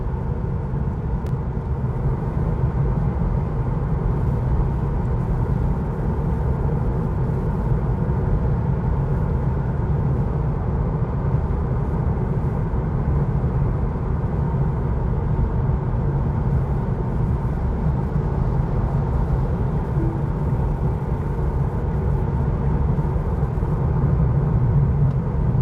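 Steady road noise inside a Tesla Model 3 Highland RWD driving on a concrete road, a constant loud low rumble and tyre roar with no break.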